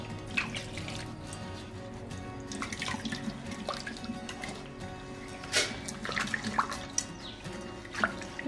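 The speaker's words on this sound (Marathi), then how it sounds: "इकडे आपल्याला दोडके आता धुवून घ्यायचे तर दोडक्यांना आपण असं धुवून घेऊ स्वच्छ" Ridge gourds rinsed under a running tap while a village-style ridge gourd thecha is prepared, giving a steady wash of water with scattered splashes and drips nearby; no talk.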